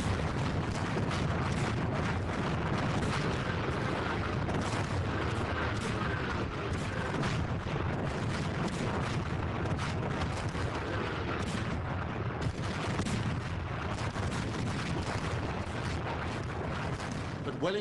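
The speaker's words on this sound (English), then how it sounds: "246 French cannon started the bombardment." French cannon bombard the lines at Waterloo in a dense, unbroken barrage of heavy booms and rumbling blasts that overlap into a constant roar for the whole stretch.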